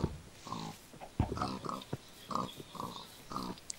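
A Minecraft pig swimming in water gives a run of short, close oinks and grunts, several quick calls spaced across a few seconds with faint game ambience between them.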